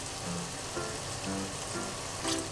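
Shaoxing wine goes into a hot frying pan of browned meat over lowered heat, giving a steady, even sizzle with light crackles and a brief brighter hiss at the end.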